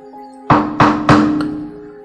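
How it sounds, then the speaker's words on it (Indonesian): Three firm knocks on a wooden door, close and loud, spaced about a third of a second apart, each fading with a short hollow ring over a low steady hum. "Suara ketukan pintu membuat Sabto bergegas bangun dari tidur singkatnya"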